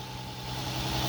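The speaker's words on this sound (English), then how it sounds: "Now the engine is working right." An Infiniti G35X's VQ35 engine, fitted with a replacement throttle valve, runs at a low, steady idle, heard alone for a brief moment.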